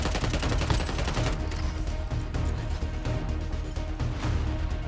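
Gunfire in the mobile shooter Warzone Mobile, dense continuous rapid bursts of automatic weapons over a busy battle din, loud and unbroken throughout with no talking.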